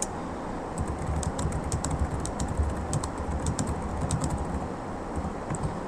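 Rapid keystrokes on a computer keyboard entering a message into an Enigma machine simulator, a steady close clatter of light clicks over a constant background hum, with no talking.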